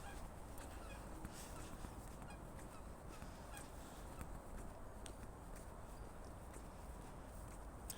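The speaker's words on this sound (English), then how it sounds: "Canada geese." Canada geese on an urban park lake in the Midlands honk faintly and far off through a steady wash of outdoor wind noise, a few scattered calls over the background.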